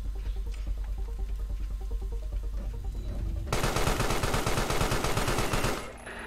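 Rapid automatic gunfire in the video game Carrion, starting as scattered softer shots and then bursting into a loud, dense stream of rattling bursts before cutting off near the end.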